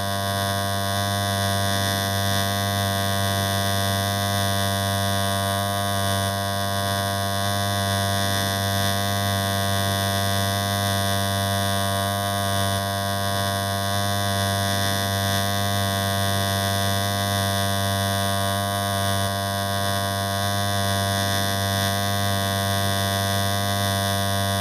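Electric hair clipper with a number one guard running continuously during a low-cut round fade, a steady close buzzing hum with no pauses and no talking.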